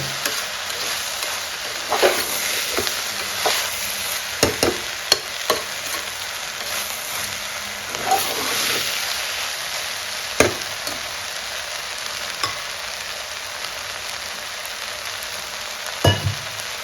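Vegetables fry in a pan for pulao with a constant soft sizzle, broken by scattered clinks and scrapes of a spatula stirring.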